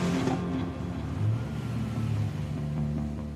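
A car fitted with a roll cage drives slowly up a giant seesaw, its engine rumbling and revving steadily at moderate volume with no speech.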